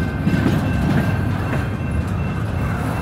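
A freight train rolls through a rail yard, a loud, continuous rumble of wheels and cars close by, steady throughout with no voices.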